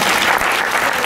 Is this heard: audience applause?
yes